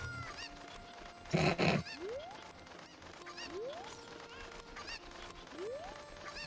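Chickens in the video game The Legend of Zelda: Ocarina of Time, several rising clucks and squawks spaced a second or two apart, with a loud sharp crash-like burst near the start, all over faint game background sound.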